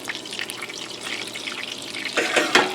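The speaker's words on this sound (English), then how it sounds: "Raise it just a hair because you want to hear that sizzling." Steady crackling sizzle of meat frying in a hot pan, growing louder and more spattery toward the end, with no voices.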